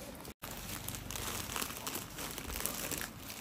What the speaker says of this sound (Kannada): ಸೊ ಸ್ಯಾರಿ ಪ್ಯಾಕಿಂಗ್ ಈ ಥರ ನಡೆಯುತ್ತೆ.